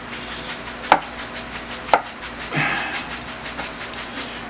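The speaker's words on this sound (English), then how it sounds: "Cutting into strips." A knife slices meat into strips on a cutting board, with two sharp thunks about a second apart, then a longer drawn slicing stroke, close and fairly loud against a steady background hum.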